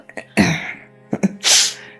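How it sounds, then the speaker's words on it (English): Sharp sneeze bursts, two or three of them, loud and close, with a short breathy intake before the last and strongest one and quiet gaps between. "She's sneezing and shit."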